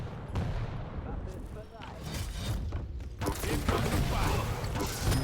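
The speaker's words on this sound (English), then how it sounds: "2 grenades and a rail" Explosions from two grenades and a sharp railgun shot in a competitive arena shooter duel, bursts of crackling blasts and impacts amid game noise, with a commentator talking over them.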